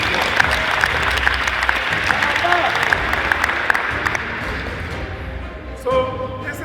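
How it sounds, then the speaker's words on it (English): Steady audience applause at a basketball festival hall-of-fame event honouring local leaders, broad and continuous, then dying away, with a short burst of talk and noise at the end. "Can we give them a round of applause?"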